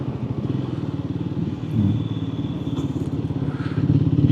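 A Triumph Scrambler 400X motorcycle rides through Staffordshire, its engine a steady, close, pulsing drone under rushing road and wind noise, with a brief rise in pitch partway through and no one speaking.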